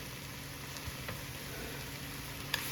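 Cabbage and shrimp seasoned with Tony's frying in a pan, a steady soft sizzle running throughout with a few faint clicks and a sharper tick near the end.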